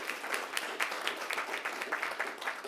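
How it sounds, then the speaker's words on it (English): Audience at a school district board meeting applauds with lively, dense clapping, individual claps popping out of a sustained crowd roar. "So I would like to ask everybody to give AISD a big round of applause"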